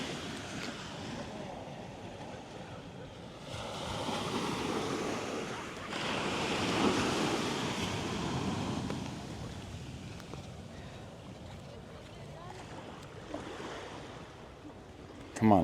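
Surf breaking along Karon Beach in Phuket, a steady broadband wash of waves with swells rising and easing, mixed with some wind on the microphone and faint voices in the background.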